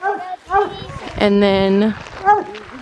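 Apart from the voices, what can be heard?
dog barking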